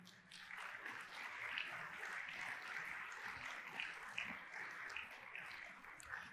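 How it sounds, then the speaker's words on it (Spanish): A church congregation applauding during a Spanish-language sermon, moderate, continuous clapping from many people at some distance, steady throughout with a few sharper claps standing out. "Damos un aplauso al Señor."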